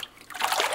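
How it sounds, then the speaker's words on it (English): Paper pulp water splashing and trickling as a screen is dipped into a vat, a soft wet slosh building to a steady close splatter over a brief moment. "we're gonna dip the screen into the vat of pulp and collect a very thin layer on top"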